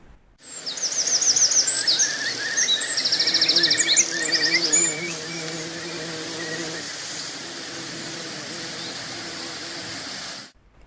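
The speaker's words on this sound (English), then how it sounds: "This is the sound of a hay meadow in early summer." An open hay meadow in early summer in Upper Teesdale: birds sing in quick trilling bursts early on, over a constant soft hiss and hum of insects that carries on after.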